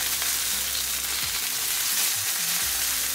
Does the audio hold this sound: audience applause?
no